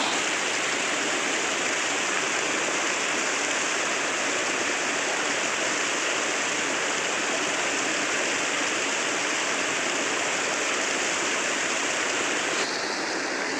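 A small waterfall on the Markandi river near the ancient Madhota Shiva temple pours steadily into a deep stream, a constant close rushing hiss with no voices.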